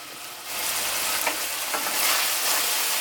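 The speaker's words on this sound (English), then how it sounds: "I'm just going to combine all these together and just let this cook for about 5 minutes" Cabbage and seasoning fry in a pan, a steady close sizzle that swells after a quiet opening half-second and holds with small crackling bursts, no voices.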